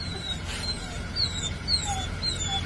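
Dogs greeting someone arriving home give high, thin whimpers and short whines that repeat over steady background noise, with a person's voice faintly under them.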